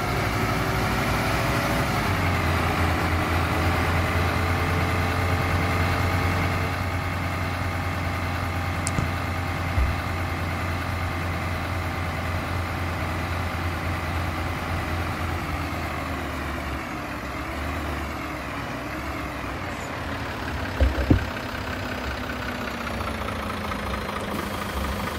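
An Irisbus Intercity bus engine idles outside in the OMSI 2 simulator, a steady low diesel rumble with a constant throb that runs unbroken throughout, close and fairly loud, with a couple of brief clunks near the end.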